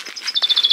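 Small bird singing nearby at a countryside dacha, a quick run of bright repeated chirps building into a steady trill, clear and close with no talking.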